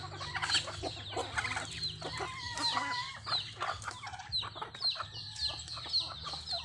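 Chickens cluck and chirp busily up close while pecking at leftover cooked rice and a little corn, a dense overlapping chatter of short calls with no talking.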